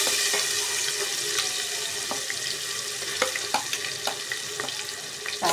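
Masala hitting hot oil in a pan for Surti undhiyu, a dense hiss of sizzling with small clicks and scrapes from stirring, close and continuous.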